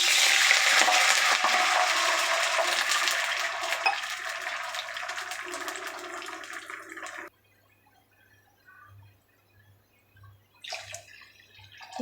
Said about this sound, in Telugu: ఎసరు ఒక 2 గ్లాస్ వాటర్ యాడ్ చేసుకోవాలి